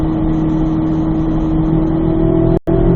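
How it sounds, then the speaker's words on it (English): A car accelerating on a race track down a straight, engine droning loud and steady at close range with a brief dropout near the end. "then start squeezing the throttle down a straight line"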